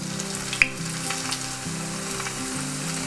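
Mughlai paratha deep frying in hot oil in a frying pan, a continuous close sizzle and crackle with one sharp pop early on and soft stirring noises, no talking.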